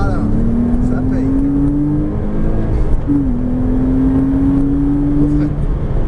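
A Porsche Cayman S on the Chenevières circuit pulls hard at full throttle, its engine note climbing steadily, dipping briefly at a gear change, then rising again, loud and close under a voice talking.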